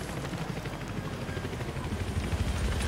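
A Battlefield 3 combat helicopter thrums nearby, its rotor producing a rapid low pulsing chop that swells slightly louder toward the end, with no voices over it.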